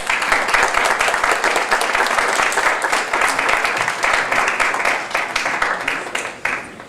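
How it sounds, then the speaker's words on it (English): A panel audience gives a sustained round of applause at an esports administration conference session, dense clapping filling the room steadily for several seconds before tapering slightly at the end. "I'd just like to give our panelists a quick round of applause"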